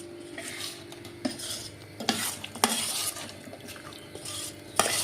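Spiced potato pakora mixture being mixed in a bowl, with soft, steady squelching and a few sharp clinks of a utensil against the bowl rim, close and quiet, no talking.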